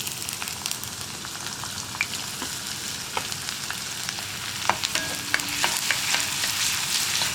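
Chopped ginger and garlic fry with cloves and cardamom in an iron pan for egg kurma, giving a close, steady sizzle with occasional spatula scrapes and taps that grow slightly louder toward the end, with no talking.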